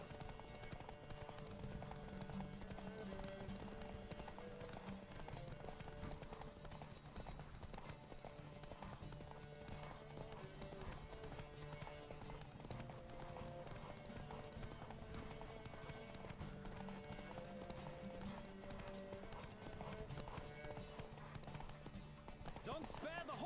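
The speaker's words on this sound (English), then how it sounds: "Don't spare the horse." A horse gallops in Witcher 3, hooves pounding in a fast, steady rhythm for the whole stretch, with light game music underneath and a person talking over it at times.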